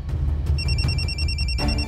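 A phone rings with a steady electronic tone that starts partway through and repeats in even pulses over a low background rumble, set in a residential compound during a search for a missing older woman.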